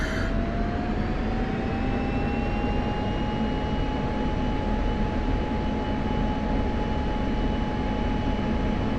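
An F-16 jet engine run-up in the DCS World flight simulator: a steady, loud turbine roar with a rising whine that climbs and then holds level, continuous throughout and without talk.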